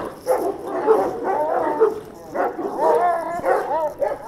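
A dog kept for breeding barks, yips and whines in a loud, close, steady string of calls that runs through the whole stretch.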